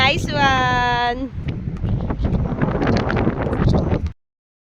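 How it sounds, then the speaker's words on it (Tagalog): Strong wind buffets the microphone outdoors on a cold basketball practice court, a loud, continuous rushing roar with gusty swells, opened by a brief high tonal squeal. "Lakas ng hangin."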